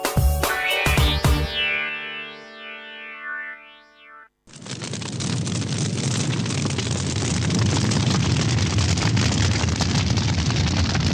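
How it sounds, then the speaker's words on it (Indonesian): Steady, dense rain sound effect from a radio drama starts abruptly after a warbling electronic musical jingle, then continues loud and unbroken to the end. "Hujan lagi."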